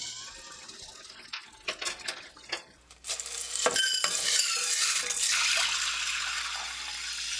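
Red adzuki beans being rinsed in water: clicking rattles of beans stirred by hand, then a steady rush of running water from a tap, close and continuous with no talking.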